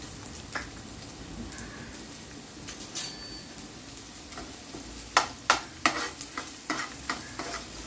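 Finely chopped onion drops into hot oil in a kadhai for egg bhurji, a faint steady sizzle followed by a run of sharp, distinct scraping stirs in the second half, with no voice.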